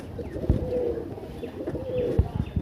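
A medium-sized kaldoma flying pigeon coos close by in a low, throaty, repeating rumble that swells and fades over a steady background murmur.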